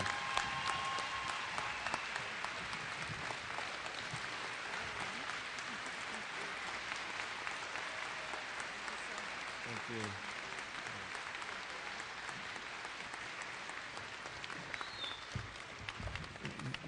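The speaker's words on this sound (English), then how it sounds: "I want everybody to give her a big round of applause for more than 2 decades of work for the university" A convocation audience applauds Brenda's more than two decades of university work, a broad, sustained wash of clapping from a large crowd that continues at an even, moderate level for the whole stretch.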